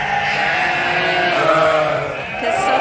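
Suffolk sheep bleat in a pen at feeding time, several overlapping calls close by and loud, with the crowded flock's noise running on without a pause.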